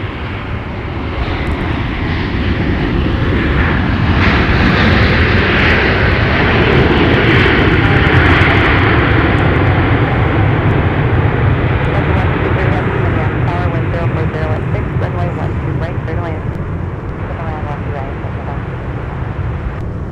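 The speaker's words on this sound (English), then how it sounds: "this smooth touchdown from Delta 9" A Delta Airbus A330-900neo touches down at Minneapolis–Saint Paul airport in winter, its loud, steady engine roar holding for the whole stretch, with a person talking over it.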